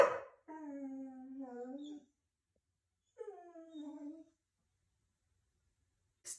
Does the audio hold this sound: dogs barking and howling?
yes